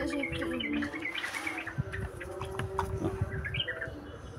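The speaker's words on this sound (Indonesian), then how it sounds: "burung kesayangannya Mas Rino guys, lontang" Plontang pigeon kept as a pet, cooing and calling amid soft chirps and tweets, with intermittent bird sounds over a quiet, busy background and no talking.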